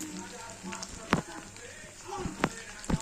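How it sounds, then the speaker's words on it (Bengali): An egg fries in oil in a pan while salt is added, a steady sizzle with a few sharp clatters of utensil strikes rising above it. "ডিমটা ভেজে নিচ্ছি, নুন দিয়ে দিলাম"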